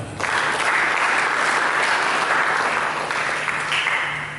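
A church congregation claps through a Sunday service, a full, sustained wash of applause that stays loud and even before easing slightly at the end.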